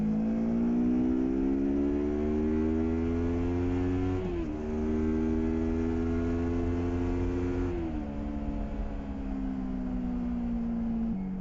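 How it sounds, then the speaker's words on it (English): A Kawasaki Versys X 300 motorcycle ridden at full throttle in third gear: a loud, steady rising engine howl with strong harmonics that climbs in pitch, dips briefly at two gear or throttle changes, then keeps pulling, close and continuous with no talk. "the noise the bike makes is enjoyable when you're pinning it"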